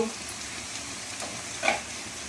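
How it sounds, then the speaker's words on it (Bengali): Spice masala of ginger, garlic, turmeric and chili powder frying and being stirred in a pan, a steady close sizzle with scraping stirring strokes and a brief louder scrape near the end, no talking. "এবার মশলাটাকে আমি ভালো করে কষে নেব"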